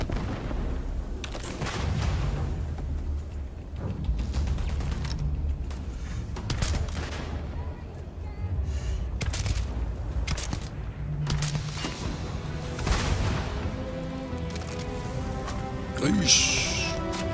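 Repeated bursts of gunfire and heavy booms from a shooter video game crack out at irregular intervals throughout, loud and close, with a player talking over the action.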